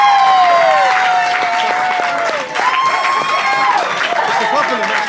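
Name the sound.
wedding guests applauding the father of the bride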